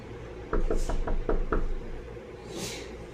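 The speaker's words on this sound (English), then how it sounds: "There was no doorbell, so I just knocked really hard." Six hard knocks on a door in quick succession, loud and close, followed by a quiet pause with faint background noise.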